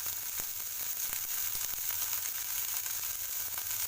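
Fenugreek leaves fry in a pan with a constant close sizzle and crackle, steady and unbroken for a few seconds, with faint stirring and no talking.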